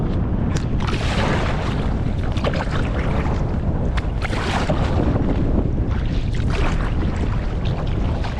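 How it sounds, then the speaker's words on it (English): Wind buffeting across choppy, lumpy open water during a day of kayaking, a steady loud roar with gusty microphone rumble and splashing, no talk throughout. "it's pretty lumpy out here today and the wind is pretty good"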